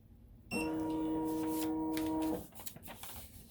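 An embroidery machine sews a satin stitch along the gutter of a fabric piece, giving one steady, loud, high mechanical whir that starts abruptly, holds for about two seconds, then stops, with faint handling noise afterward and no speech.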